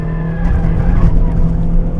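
A race car on the Nürburgring Nordschleife brakes hard into a corner and drops down to third, its engine loud and close with a steady drone and a faint tire squeal, no talk heard.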